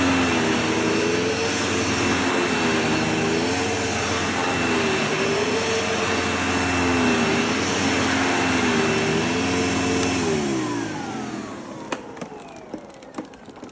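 A Hoover Insight 102 commercial vacuum cleaner runs steadily and loudly with a whining motor drone, then powers down and winds off near the end, leaving a few faint clicks.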